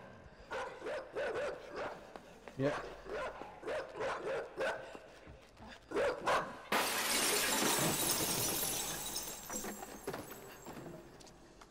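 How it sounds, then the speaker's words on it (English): Dogs bark repeatedly in the video game Inside, a run of sharp, regular barks that swells into a loud crashing, shattering burst partway through; a brief spoken word is heard. "Hear them dogs."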